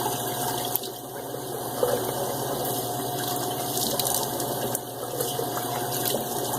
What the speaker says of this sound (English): Let's rinse my cheeks.